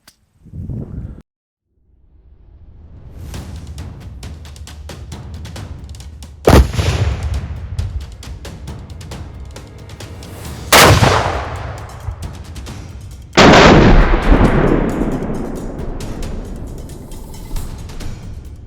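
Explosive targets detonating at an outdoor shooting range: three loud, sharp blasts spaced several seconds apart, each with a rolling echo that trails off, over steady wind noise and scattered rustling.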